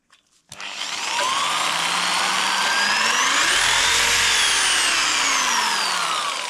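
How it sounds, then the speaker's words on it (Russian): A jigsaw cuts through a thick wooden beam during preparation for fireplace demolition, a loud steady buzzing whine that starts abruptly after a brief moment of quiet and runs continuously close by. "Пока пробуем лобзиком все это дело отпилить"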